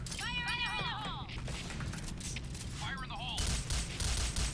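Bursts of Kriss SV gunfire in a shooting video game, a rapid string of shots mixed with game effects and occasional tonal chimes, heard fairly quietly in the background throughout.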